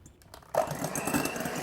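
Electric mixer whisking meringue with sugar for a lemon cake, a steady whirring hum that starts abruptly and runs continuously at close range.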